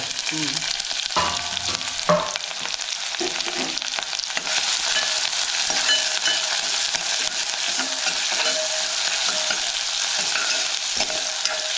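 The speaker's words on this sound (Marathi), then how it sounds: "कांदो कढीपत्तो कांदो आणि कढीपत्तो फोडणे" Loud, continuous sizzling of onion and curry leaves frying in hot oil, with occasional stirring scrapes early on, close up and steady throughout.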